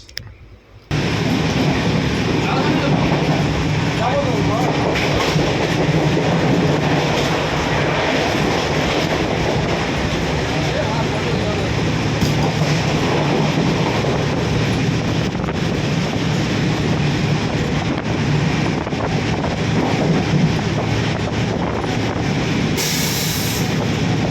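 The Uttarbanga Express passenger train on the Sealdah–Bamanhat route runs on rails near Bardhaman, a loud, steady rumble and rattle with heavy wind buffeting that continues without a break.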